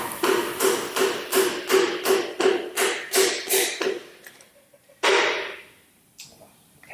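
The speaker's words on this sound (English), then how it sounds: "That way you can actually tap the piston in." A long-shafted piston hammer taps a piston into the engine block during a 1967 Shelby GT500 engine build: about eleven crisp, evenly spaced taps close by, then a pause and one final louder strike.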